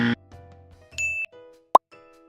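A short sequence of soft electronic tones from a Huawei Nova 4 or LG G6 phone placed on its wireless charging base: a brief blip, a sustained chime that glides upward, then a sharp click and a fading beep, all quiet and close.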